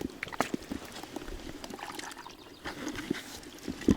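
Small splashes and trickling water as a caught fish slips back into a river, with a few soft wet plops and a gentle steady background of flowing water.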